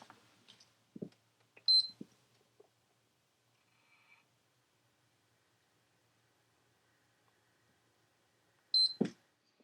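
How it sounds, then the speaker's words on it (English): PS4 console held at its power button to boot into safe mode gives two short, bright electronic beeps, one near the start and one near the end of an otherwise quiet stretch with faint handling clicks. "I'm going to hold down on the power button for 7 seconds, 2 beeps will happen, the PS4 will restart into safe mode"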